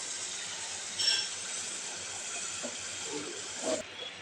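Onion and garlic paste frying in oil, with ginger, chili, turmeric and salt, gives a steady bright sizzling hiss throughout, broken by a couple of faint clinks of a utensil against the pan.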